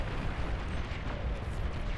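A commander unit's explosion in the strategy game Beyond All Reason: a continuous low, rumbling roar of blast and debris that stays dense and loud through the whole stretch, with no clear gaps.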